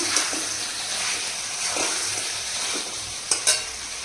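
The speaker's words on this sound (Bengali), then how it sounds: "মাংসটা সুপারবলি কষে গেছে খুব সুন্দরভাবে কষে গেছে মাংসটা তেল ছেড়ে দিয়েছে সম্পূর্ণ" Meat that has been cooked down until the oil separates sizzles and hisses steadily in a pan, close and continuous, with a few scraping stirs and a brief clatter near the end.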